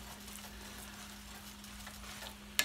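A shrimp cutlet mixture of prawns and mashed potato is stirred in a hot pan, giving a steady soft sizzle and scraping texture, close and even, ending with a sharp clack.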